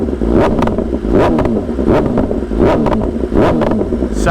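A 2025 BMW S1000RR motorcycle engine revs hard in a series of loud, close throttle blips with rising and falling pitch, steady and without speech.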